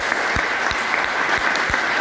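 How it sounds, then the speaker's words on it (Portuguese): A church congregation applauding in praise, a steady wash of clapping from many hands with no voices over it. "Você pode aplaudir ao Senhor por essa palavra."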